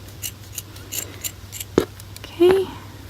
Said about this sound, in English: get scissors that are sharp when you do this project